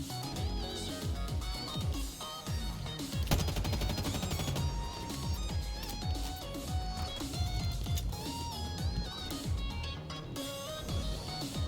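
Rapid video-game gunfire with bursts of automatic weapons and heavy blasts fills the whole stretch, a dense, loud and continuous barrage with no talk over it.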